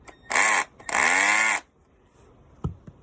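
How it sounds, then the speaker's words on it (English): Two loud, harsh mechanical bursts of a drill clutch slipping and skipping gear teeth, a short pause between them, followed by quiet and a couple of faint knocks. "the resistance band running over its gears and skipping teeth so you can't drive any further"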